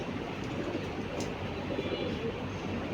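Pigeons coo in a loft kept at a relative's home, soft and partly buried in a steady wash of broadband background noise.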